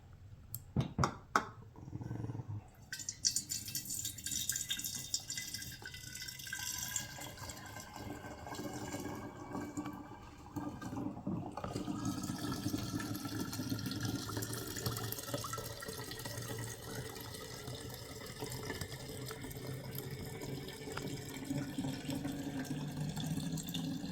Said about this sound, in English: I'm going to fill them right up to the top because we don't want any airspace at all.